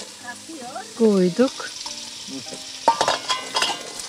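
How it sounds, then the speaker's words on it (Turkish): Chopped pumpkin sizzles and gets stirred in a hot pan, with scraping of a utensil, while a person speaks briefly nearby. "Şimdi bal kabağını da kavuracağız."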